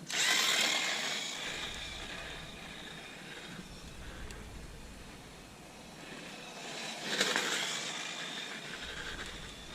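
A Tamiya FF-01 radio-controlled car driven hard at full throttle, giving a steady high-pitched electric motor whine that swells and fades as it passes, with brief louder surges near the start and around the seventh second.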